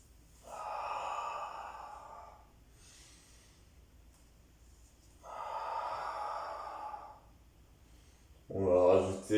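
Slow, audible breaths in and out during a Pilates mat exercise, two long airy exhalations a few seconds apart followed by a sharper, louder breath at the end, close and otherwise quiet.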